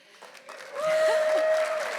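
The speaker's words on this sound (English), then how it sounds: "When you stop clapping, I'm going to get nervous" Audience applause at a College of the Atlantic evening event, swelling from scattered claps into steady, full clapping from a seated crowd, with a sustained tone running underneath.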